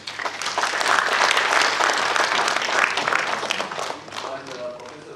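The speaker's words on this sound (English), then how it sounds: "Please join me in a round of applause" A round of applause at a foundation day celebration, dense clapping from a seated audience that swells, holds, then thins out toward the end, with faint voices mixed in.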